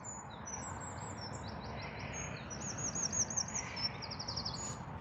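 Wren and robin song at a lakeside nature reserve in Dorset: faint, high, rapid chirping phrases repeat over a steady outdoor hiss, growing busier toward the end.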